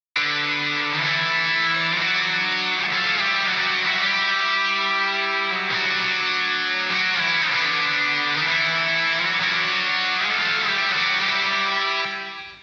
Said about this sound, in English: Then in the chorus of the song, I've got two guitars going